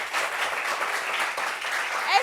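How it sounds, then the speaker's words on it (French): Applause for a couple at a gathering of colleagues, a steady wash of clapping from an audience lasting a couple of seconds, fairly close and even in loudness. "applaudissements un peu pour le couple Yapi."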